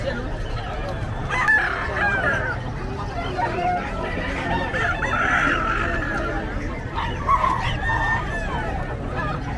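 Fighting roosters crow and chickens cluck amid a busy background of people talking at the Bocaue pet market, the calls medium-distance and overlapping the chatter.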